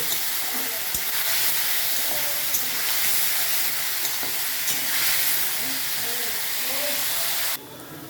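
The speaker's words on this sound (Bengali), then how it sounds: "তেল গরম হয়ে যাওয়ার পর আলু পেঁয়াজ লঙ্কা যেটা কেটে ধুয়ে রেখেছিলাম সেটা ভালো করে ভেজে নেব।" Potatoes, onions and chilies frying in hot oil, a loud continuous sizzle and hiss with occasional stirring scrapes, cutting off abruptly near the end.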